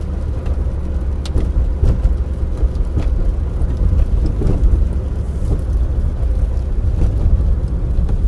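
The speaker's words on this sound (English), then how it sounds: "I'm going to downshift here, so that's what downshifting looks like." A car with a manual transmission drives along while being downshifted, its engine a steady low rumble with shifting hum and occasional knocks throughout, close and fairly loud with no talk.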